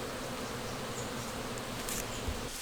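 Bees buzz steadily in a garden bee area with a water fountain and bee waterer among flowers, a continuous close hum with faint outdoor noise and no talking.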